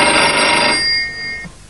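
An ordinary home telephone, owned for about twelve years, rings loud and close with a bright electronic trill that cuts off partway through, leaving a faint hum and one soft low thump.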